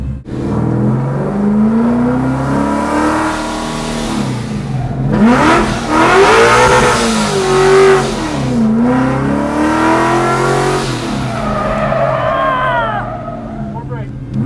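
Car drifting around cones at the 2021 Holley Ford Festival, engine revving up and down in repeated swells with tire noise, loud and close, while people talk over it.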